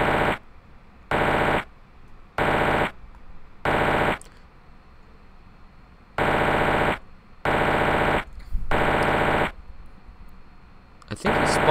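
Bursts of rapid video-game gunfire: about eight evenly spaced, loud synthetic volleys of shots, each lasting roughly half a second, separated by short near-silent gaps, with a faint voice in the background.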